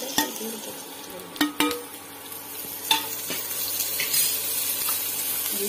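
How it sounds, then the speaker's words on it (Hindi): Onion and green chilli frying with turmeric in a pan on an induction cooktop, a steady soft sizzle broken by a few sharp clinks of a spoon against the pan, with no voices. "इंडक्शन पर हम प्याज और हरी मिर्च भी फ्राई करेंगे।"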